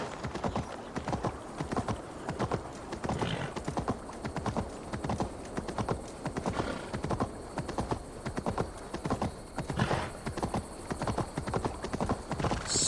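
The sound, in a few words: horse galloping in Assassin's Creed Valhalla video game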